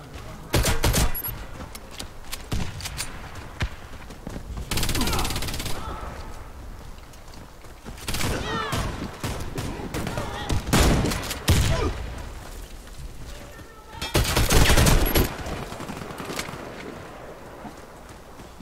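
Video game gunfire in an online shooter match, with repeated bursts of automatic fire and several heavy volleys across the stretch, loud and close, mixed with game effects and occasional voices.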